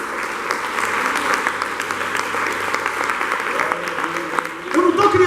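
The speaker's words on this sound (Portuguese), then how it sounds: "Pode aplaudir o Senhor por isso?" Church congregation applauding during an intercession seminar, a dense steady wash of clapping throughout that swells louder near the end, with some voices mixed in.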